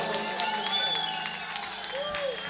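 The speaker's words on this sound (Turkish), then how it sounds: "Alkışlar dostlar." Festival audience applause, a steady wash of clapping and crowd noise with a few whoops, fairly loud and continuous, with voices and some tonal sounds mixed through.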